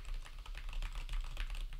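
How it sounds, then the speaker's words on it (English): Rapid clicking keystrokes on a new, louder computer keyboard, close and continuous in quick irregular bursts, with no talking. "Oh, and I also got a new keyboard, so it's a little bit louder."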